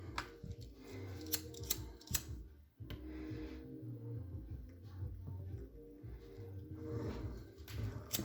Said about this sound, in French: Et celle-là, je vais la couper au coupe-ongle.